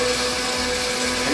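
An electric spice grinder switched on and running, a loud continuous high-pitched motor whine with a steady tone throughout the short burst.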